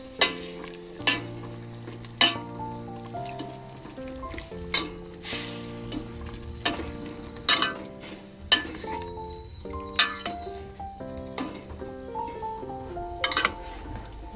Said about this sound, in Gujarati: હવે આને હલાવી નાખશું આપણે.